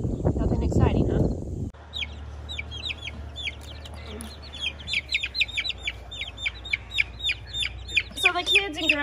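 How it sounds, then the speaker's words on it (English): Young chicks hatched a couple of weeks earlier, chirping busily while being carried outdoors to a bigger area on a cattle farm; a dense run of high peeping follows a loud burst of talk and handling at the start. "So now we are transporting the birds to outside into a bigger area."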